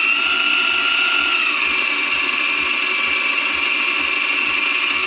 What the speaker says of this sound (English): when you drill this hole, you get close to the bottom